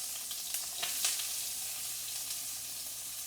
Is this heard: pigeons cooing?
no